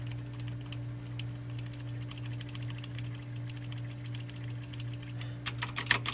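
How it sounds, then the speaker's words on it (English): Clicky mechanical keyboard switches clatter in scattered, irregular bursts of sharp taps over a steady electrical hum, growing into a faster, louder cluster of clicks near the end. "It's kind of mechanical switches, and they are a bit clicky."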